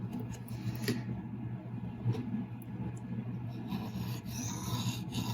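A CRKT Pilar 3 knife blade of 8Cr steel is sharpened, producing a steady, close scraping and rasping with a faint ongoing hum and no talk.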